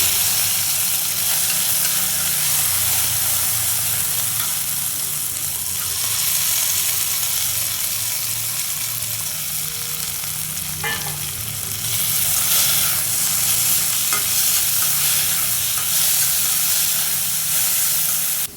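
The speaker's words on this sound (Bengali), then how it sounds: "এখন বাঁধাকপি রান্না হচ্ছে চিংড়ি মাছ দিয়ে" Cabbage and prawns fry in a pan with a steady, loud sizzle and hiss that runs the whole time, with a few stirring scrapes and a brighter burst of sizzling partway through.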